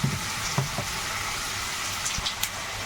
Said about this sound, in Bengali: একটু পাঁচ ফোড়ন দিলাম কড়াইতে তেল দিয়ে